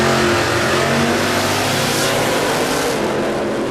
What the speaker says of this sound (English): First pairing, round one of qualifying here for Supercharged Outlaws